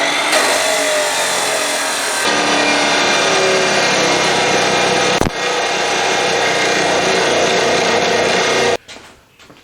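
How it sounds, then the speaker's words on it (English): A chop saw cuts through steel stock for a swage block stand, giving a loud continuous abrasive whine and grind that runs for nearly nine seconds with one sharp click partway through, then winds down. "So first we gotta get the big nasty chop saw up here and get these cut"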